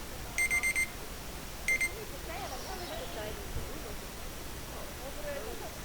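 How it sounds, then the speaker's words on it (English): Two short bursts of rapid electronic beeps sound from the Planet Zoo incident alarm, the first longer than the second. Then the beeping stops and soft, hissy game ambience continues. "that was my incident alarm."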